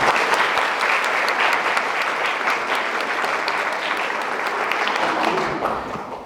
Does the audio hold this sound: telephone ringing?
no